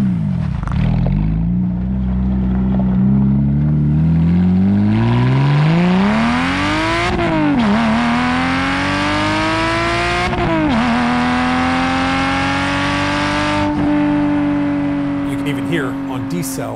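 Loud, close Toyota 2GR-FE V6 exhaust revving hard, its pitch climbing in long rising sweeps, briefly dropping between gear changes, then holding a strong sustained howl.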